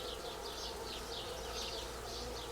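Honeybees buzz steadily at a hive being split into two colonies, a dense close-up drone with swelling pulses of wingbeats, with faint birdsong in the background.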